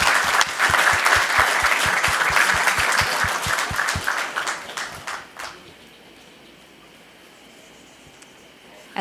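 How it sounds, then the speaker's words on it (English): Applause for award recipients leaving a city council meeting, dense hand clapping for about five seconds before thinning out and fading into quiet room tone. "Another round of applause for all of our awardees as they leave."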